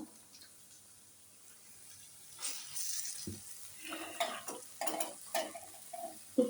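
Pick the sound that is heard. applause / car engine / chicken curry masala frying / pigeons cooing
chicken curry masala frying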